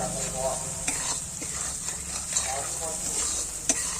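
Spices sizzle and fry in a pan while a spoon stirs and scrapes through them, a steady close hiss with occasional sharp clinks of utensil on metal.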